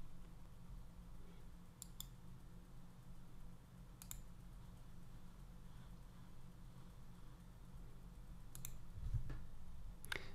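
A computer mouse gives a few sharp, isolated clicks at spaced intervals over a quiet background, faint and close, with no talking.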